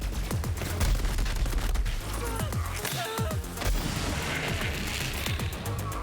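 The Becca, a gun in Borderlands 3, fires in continuous loud rapid bursts, with booming impacts and game effects layered over the shooting.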